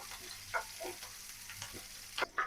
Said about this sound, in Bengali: পেঁয়াজ কাঁচামরিচ ভেজে নেব।